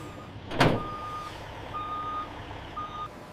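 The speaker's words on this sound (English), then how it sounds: "The delivery truck backs into the loading dock for shipment." A delivery truck reversing into a loading dock at a guava processing plant gives a loud thump, then three long, steady reversing beeps with short gaps, over a low engine rumble.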